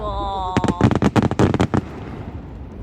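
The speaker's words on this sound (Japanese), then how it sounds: "すごい花火だ。" Fireworks at the Noshiro port festival burst in a rapid volley of loud, sharp bangs and crackles, followed by a fading rumble; excited voices can be heard around the display.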